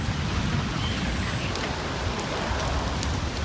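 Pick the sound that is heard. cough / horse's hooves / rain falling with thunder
rain falling with thunder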